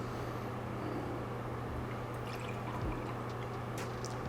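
Melted virgin coconut soy candle wax pours steadily into small shot cups, a soft continuous liquid trickle over a constant background hum.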